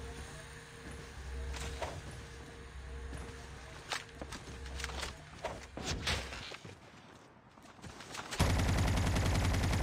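Call of Duty Mobile gameplay carries scattered gunshots and short bursts of automatic fire, fairly quiet and distant. Footsteps and movement noises sit among them, and a louder ambient wash takes over near the end.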